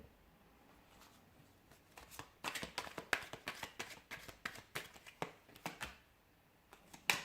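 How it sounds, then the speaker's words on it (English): Tarot cards are shuffled close by, quiet at first and then a rapid run of crisp riffling slaps and taps that ends in a sharper knock. "I'll give the cards a shuffle"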